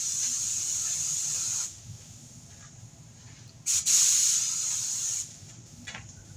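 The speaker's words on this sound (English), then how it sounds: "So you get an airbrush like spray." Pressurized spray paint hisses in an airbrush-like mist onto a model 1972 Cuda car body, in two steady bursts with a short pause between and quieter room noise after.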